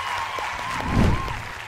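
Brief burst of applause from a TV game show studio audience, short and fairly loud, with a tonal musical line running underneath.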